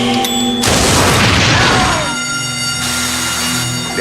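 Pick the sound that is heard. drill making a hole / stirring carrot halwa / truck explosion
truck explosion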